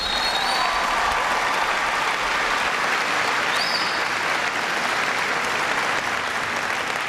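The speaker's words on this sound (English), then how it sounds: "Give him a big round of applause." Crowd of service members at a Navy base applauding Vice Admiral Jamie Fogo, a loud, dense, continuous roar of clapping that holds steady throughout, with faint whistles mixed in.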